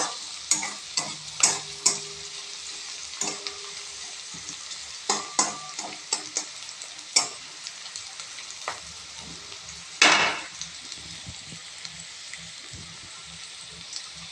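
Whole cardamom and cinnamon crackle and fry in hot oil for fried rice made with local rice, with scattered sharp pops and spoon clicks over a gentle sizzle and one louder burst of hissing near the end.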